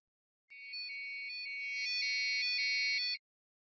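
Steady electronic beeping tones from an Arduino, a continuous run of bright pitched notes shifting in pitch over about three seconds, clear and alone with no talk.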